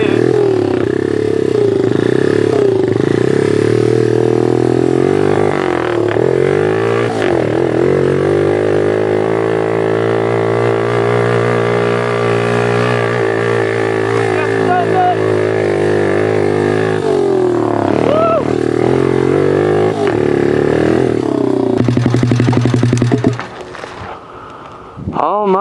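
A pit bike's engine roars steadily for over twenty seconds while riding mountain bike trails, its pitch rising and falling with the throttle, loud and close, before it cuts out abruptly near the end.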